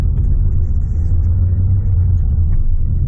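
A car pulling away, with a steady low engine rumble and road drone heard from inside, constant and fairly loud with no voices.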